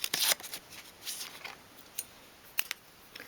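Scissors cutting out a paper template for a 1/12th scale dolls house kitchen dresser, crisp close snips and paper rustles in quick irregular bursts.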